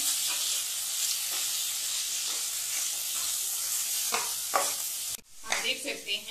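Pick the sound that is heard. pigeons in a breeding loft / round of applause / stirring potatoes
stirring potatoes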